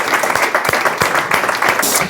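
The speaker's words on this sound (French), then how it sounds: "Et je vous demande de l'applaudir." Audience applause rises at a business talk as a guest is welcomed onto the stage, dense clapping with a few louder claps standing out.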